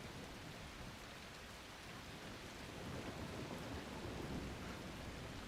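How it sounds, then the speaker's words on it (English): Storm rain in The Last Caretaker video game, a dense, constant hiss of rainfall with low rumbling underneath, faint and steady and swelling slightly toward the end. "I'm going to wait for that storm to clear before I head up"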